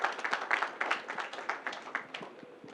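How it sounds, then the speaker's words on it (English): A small audience at an architects' forum in Lagos gives a round of applause, a short burst of close, dense hand clapping that gradually thins out. "A round of applause, please."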